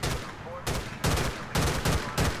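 Gunfire in LCPDFR, a police mod for GTA IV, arrives as a series of loud, close, heavy shots in irregular bursts over a dense noisy backdrop, with a voice faintly mixed in.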